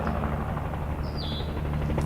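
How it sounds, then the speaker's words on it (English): A helicopter on final approach to land at a park across the street, heard as a steady, continuous rotor and engine rumble filling the low end throughout. "We got a helicopter coming in on final approach to the park"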